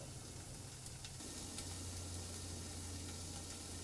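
Ivy gourd (tindora) stir-fries in a pan, a soft continuous sizzle with a low steady hum and faint occasional stirring clicks throughout.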